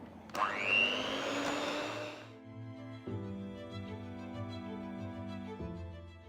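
An electric mixer whirs through vegan cream cheese with lemon juice and vanilla, a loud motor whine that settles into a steady hum and shifts pitch twice, with no talking.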